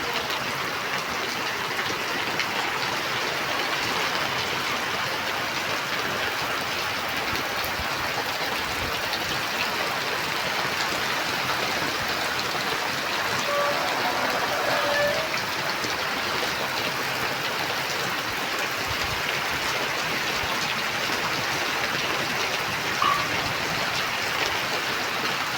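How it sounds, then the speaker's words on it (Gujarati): Heavy rain pours down in a village, a steady, dense hiss of drops drumming on surfaces that holds unbroken and fairly loud throughout, with no voices. "તમે જોઈજો કેવો વરસાદ આવ્યો."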